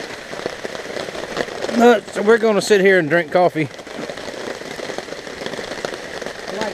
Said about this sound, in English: It's pouring. It's pouring.